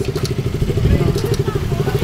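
A motorcycle engine idles close by with a low, rapid, chugging putter at a motorcycle repair shop, loud and steady, with faint clatter mixed in.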